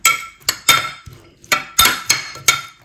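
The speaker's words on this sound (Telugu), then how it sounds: "చాట్ మసాలా, ఆనియన్స్, టొమాటో ఇవన్నీ వేసుకుని బాగా మిక్స్ చేసుకోవాలి" Spoon clinking and scraping in a bowl while mixing chaat masala, onions and tomato for a peanut chaat, giving a series of sharp close metallic clinks in an uneven rhythm, with no talk.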